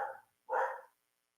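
A dog barks twice indoors, two short, close, fairly loud barks separated by a brief pause, heard alone without talk.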